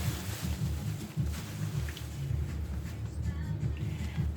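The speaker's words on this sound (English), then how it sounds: "Y'all, it's raining out there." Steady rain falls outside in a continuous dense wash with a low rumble underneath, constant and unbroken with no voices.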